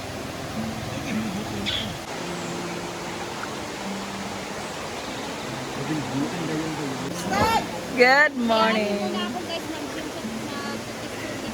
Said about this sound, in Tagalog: dito kami sa ilog